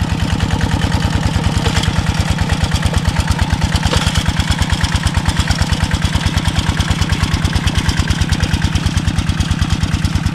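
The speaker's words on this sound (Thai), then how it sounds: "มารถไถมาละ" A tractor engine chugs steadily nearby, its rapid regular thumps continuous throughout, with some clatter on top.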